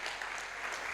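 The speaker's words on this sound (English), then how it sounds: "Keep clapping, keep clapping" A crowd of young people at a Rotary youth leadership academy event claps steadily, a dense, continuous wash of applause filling the room with no voices breaking through.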